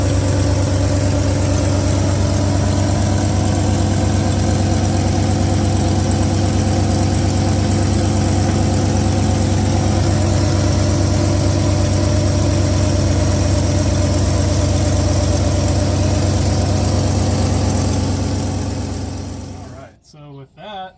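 An old Ford F100 truck engine idles steadily with a deep, even hum and faint ticking while its ignition timing is checked, then cuts off abruptly near the end.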